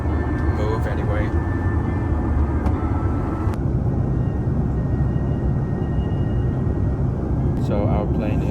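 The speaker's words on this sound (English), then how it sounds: "So our plane is now descending toward Hangzhou Xiaoshan International Airport." Steady broadband roar inside the cabin of a Hainan Airlines Airbus A330-900 descending toward Hangzhou Xiaoshan, with constant low engine and airflow rumble filling the whole stretch and a few faint clicks and rustles from the cabin.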